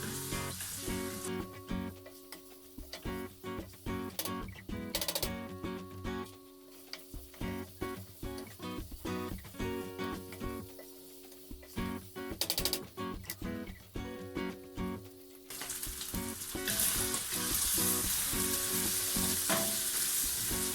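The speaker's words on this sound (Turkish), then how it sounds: "salçasını koyduktan sonra kavuralım ki arkadaşlar salçamız güzelce rengi çıksın" Tomato paste sizzles and fries in a pot for a white cabbage stew, a close, steady crackle broken by the scrape and clink of stirring, growing a little louder toward the end with no talking.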